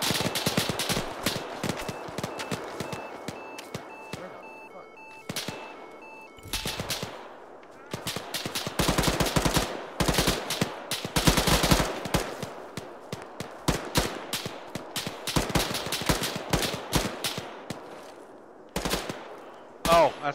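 Gunfire in a military video game, with repeated loud machine gun bursts and single shots in irregular clusters, some sharp and near, others duller, with brief pauses between exchanges.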